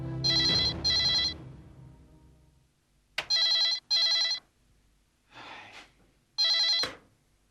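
A telephone rings in loud, bright double trills, repeating several times with short pauses and a faint voice in between.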